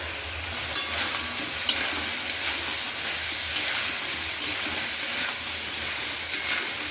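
Steady, busy frying sizzle from a pan of prawns and taro, with a few soft scrapes of stirring over the continuous hiss.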